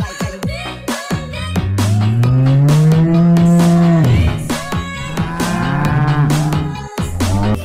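Colourful cows give several long, drawn-out moos, loud and close, with short clattering noises between the calls.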